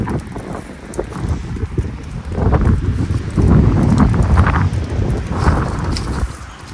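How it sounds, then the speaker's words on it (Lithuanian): Strong storm wind gusts outdoors, a rough, broadband roar that swells and buffets against the microphone, peaking in the middle before easing slightly, with no voices. "šiąnakt buvo ir dar tebėra audra, labai stiprus vėjas"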